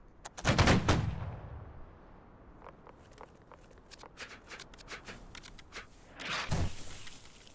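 A volley of massed musket-style gunfire in a game follows a fire command: a loud ragged burst of shots up front, scattered single cracks through the middle, then a second heavy volley near the end.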